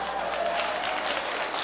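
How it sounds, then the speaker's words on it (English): A church congregation clapping hands, a dense continuous wash of claps at fairly even loudness, slightly distant and without distinct individual strikes. "Clap your hands, somebody."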